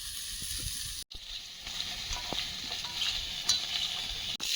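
Elephant foot yam coated with spices and sugar stir-fries in mustard oil with onion, green chilli and tomato, a steady close sizzle broken by spatula scrapes and a couple of sharp knocks.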